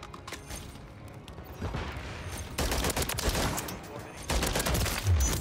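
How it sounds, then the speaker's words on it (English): Gunfire in Call of Duty Modern Warfare 3 from a Holger 556 rifle conversion, heard as dense, continuous bursts of rapid shots at moderate loudness, swelling in the second half with no clear pauses. "Somebody shooting at me."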